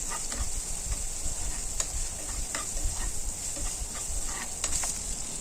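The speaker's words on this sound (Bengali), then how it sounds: "তারপর কিছুটা পেঁয়াজ কুচি দিয়ে নিলাম। এগুলো আস্তে আস্তে করে নরম করে নিব তেলের মধ্যে।" Chopped onion softening in oil alongside prawns, a low steady sizzle with scattered light ticks and stirring clicks, fairly quiet throughout.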